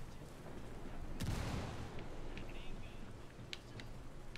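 A frag grenade goes off in Ghost Recon Wildlands with a muffled, fairly distant thump. A few scattered gunshots and sharp clicks follow, under a quiet game background with faint voices.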